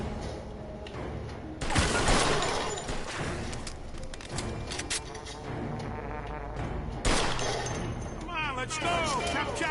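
Gunfire rattles through a video game firefight in dense, loud bursts and booms, with shouting voices mixed into the chaotic clatter.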